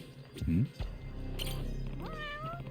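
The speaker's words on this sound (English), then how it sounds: "Is it a cat in the ceiling? We got a cat in the ceiling?" A cat meows inside the video game Judgement, first a short low mew, then a longer rising meow near the end, with a person talking over it.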